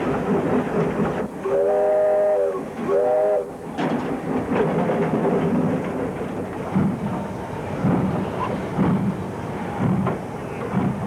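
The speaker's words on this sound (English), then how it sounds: "still echoed to the sound of steam locos shunting coal wagons under the loading bin" A steam locomotive's whistle blows in two short bursts over the rumble and clank of coal wagons being shunted under a colliery loading bin, with steady mechanical noise continuing throughout.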